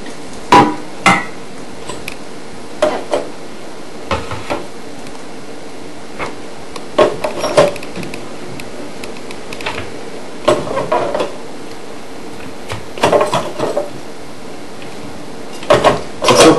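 Cooked rice tipped into a plastic bowl and seasoned, with scattered knocks, scrapes and taps against the plastic recurring irregularly at close range, no talking.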